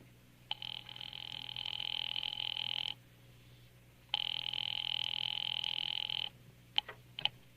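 Telephone ringing in an old-time radio drama, two long electric bell rings of about two seconds each with a pause between, clear and fairly near, followed by a few brief clicks.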